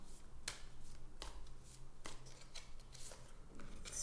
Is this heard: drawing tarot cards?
yes